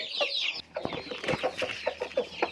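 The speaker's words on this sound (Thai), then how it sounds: "เขาจะกุ๊กกักกุ๊กกักเรียกตัวเมียนะครับ" A rooster on a farm clucks repeatedly in short, rhythmic bursts, calling hens over to food scraps such as cooked rice and pork bits; the clucks are close and clear, with a brief higher squawk near the start.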